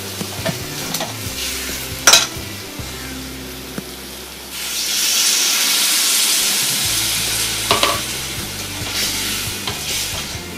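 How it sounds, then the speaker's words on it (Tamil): Brinjal kulambu with tamarind extract bubbling and frying in oil in a pan, a continuous close sizzle and hiss with occasional stirring clatter, growing louder partway through. "நல்லா கொதித்து எண்ணெய் மேலே மிதங்கி வரணும்"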